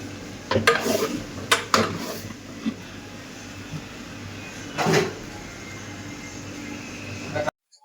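Onion masala is stirred and fried in a pan in a home kitchen. Irregular scraping and clattering strokes of a spoon against the pan stand out over a steady low background hiss.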